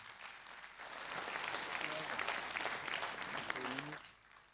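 An audience applauds at a televised academy launch event after the government spokesman minister is introduced; faint, distant clapping swells after a second, holds steady, then fades, with brief voices mixed in.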